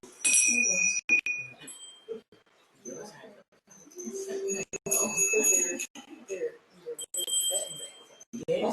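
Small hand bells ring out in bright bursts at a December 2019 festival week gathering held before a minute of silence, jingling close and loud between pauses while people talk nearby.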